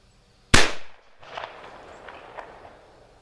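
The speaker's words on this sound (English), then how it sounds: "We'll load up and take some more shots." A single sharp, loud blast from a .50 caliber Lyman Plains black powder pistol cracks out close by, then tails off into a short decay and quiet outdoor background.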